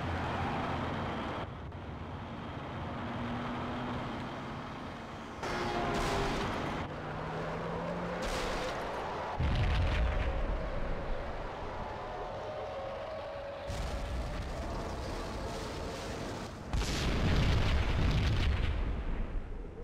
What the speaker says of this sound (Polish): W pobliskim budynku wybuchła kolejna bomba.